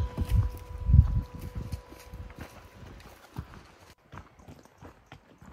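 Saddle horses' hooves clop slowly on the ground at a backcountry elk camp, an uneven walking rhythm that is louder at first, then fainter and sparser.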